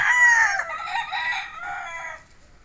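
A rooster crows nearby and loud, blending into the clucking of many chickens, then the call fades away.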